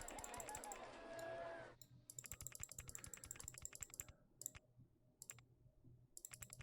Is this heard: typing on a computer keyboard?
yes